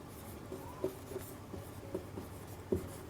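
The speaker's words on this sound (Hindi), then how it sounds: "तो यहाँ पर लिख लेते हैं अनुच्छेद 17 में" Handwriting on a board during a lesson, soft scratchy strokes and a few light taps repeating every half second or so, quiet and close, with no talk.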